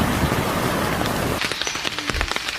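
Rain falling, a dense broadband hiss that covers the first half and then thins into scattered drops and patters, fairly loud and close.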